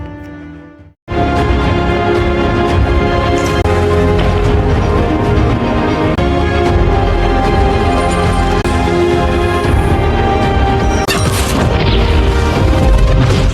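A film explosion goes off with a sudden, very loud boom after a second of quiet, then a sustained rumbling roar of blast and debris fills the rest, with crashing bursts near the end.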